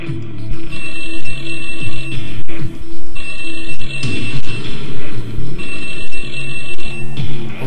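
In the Club Penguin video game, a telephone rings over and over in loud electronic bursts with brief gaps between them, and a steady game music loop plays underneath.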